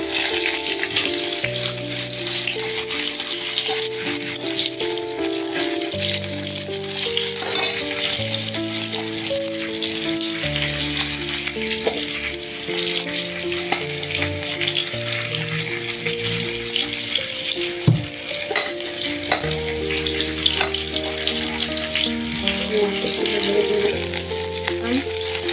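Chopped onion and nigella seeds fry in hot oil with a steady, loud sizzle that runs throughout, along with occasional stirring and clinks in the pan.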